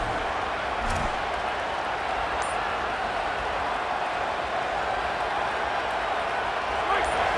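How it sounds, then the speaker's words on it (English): A dense, steady roar from a large college football stadium crowd at an LSU versus Texas A&M game, loud and unbroken throughout, with a commentator's voice faintly underneath. "This crowd bringing the energy and noise early."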